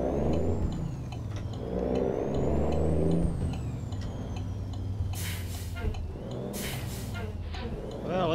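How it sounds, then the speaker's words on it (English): A truck engine in the American Truck Simulator video game revs and drones at low pitch, rising and falling under steady play, with two sharp hissing bursts like air brakes near the end. "it sounds like somebody revving their engine"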